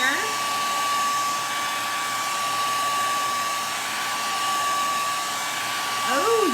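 A hair dryer blows steadily and loudly on an upcycled lazy susan, a constant airy rush with a fixed whine that holds for the whole stretch, with no one talking.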